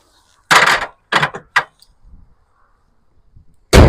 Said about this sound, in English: Shut the hood.